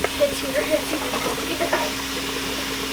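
Food browning in a pan with soft sizzling and stirring scrapes, a low steady hum beneath and a few clinks, heard fairly close and moderately loud.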